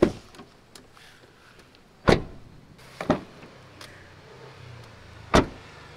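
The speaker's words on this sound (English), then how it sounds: "let's check out what the doors sound like" Doors of a 2023 next-generation Ford Ranger Raptor pickup opening and closing, with three sharp solid thuds spaced apart over a quiet background and a faint click or latch sound between them.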